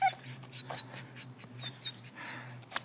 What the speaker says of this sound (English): If you're lost and you have a dog that's whining, you'll never have to worry about getting found.